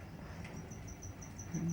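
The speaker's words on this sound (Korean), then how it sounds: "귀뚜라미 울고" A cricket chirps in a home with a pet crested gecko, a short series of evenly spaced high pulses repeating steadily over a low household hum, fairly faint.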